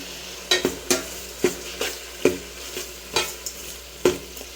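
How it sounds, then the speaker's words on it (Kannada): A spoon scrapes and stirs through thick ground masala paste with curd in a pan, several distinct strokes over a continuous sizzle of frying, close up. "ಮಿಕ್ಸ್ ಮಾಡ್ಕೊಳ್ಳಿ. ಅದು ಹಸಿ ವಾಸನೆ ಹೋಗೋ ತನಕ ಸ್ವಲ್ಪ ಫ್ರೈ ಮಾಡಿ."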